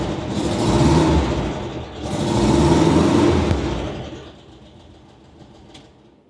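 An old Iranian Jian car engine runs nearby, swelling through two loud revs before dropping back to a quieter idle with a few small clicks.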